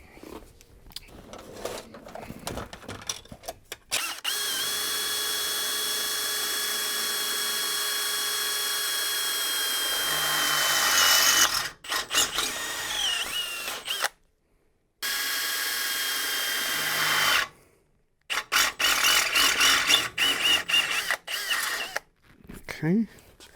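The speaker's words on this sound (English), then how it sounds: "I'll get the drill, I'll drill the corners" A power drill whines steadily at close range while boring into the corners of old truck sheet metal, running in long sustained bursts broken by sudden stops, with shuffling and clattering handling noise before and between runs.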